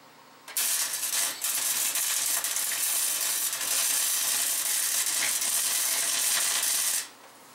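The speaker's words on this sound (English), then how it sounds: "So I'm going to go ahead and weld it." Welding an exhaust clamp on a fourth-generation Ford Mustang GT: a steady, loud crackling sizzle of the arc runs unbroken for about six and a half seconds, starting and stopping abruptly, with no talking.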